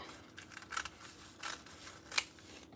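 Scissors cutting through paper for a Dollar Tree fake bake cupcake bouquet craft, several separate crisp snips close by in an otherwise quiet room.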